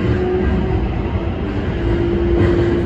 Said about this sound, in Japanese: 京急線を通過する列車は全て先頭車両にインバーターが積まれているので、このように列車の走行音を楽しむことができます